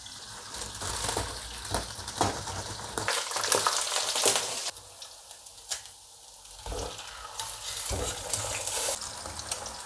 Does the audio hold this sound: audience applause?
no